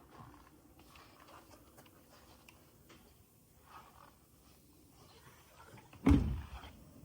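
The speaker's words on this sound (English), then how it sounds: "Soft shut doors." McLaren 720S soft-close door pulling shut, a single soft thud near the end after quiet low rumbling and faint handling noises.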